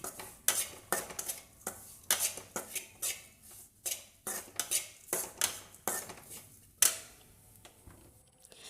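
A spoon stirs and scrapes chopped ginger roasting with Kashmiri chili powder in a pan, making quick, repeated clinking metal strokes in an irregular rhythm, close and fairly loud, with no voices.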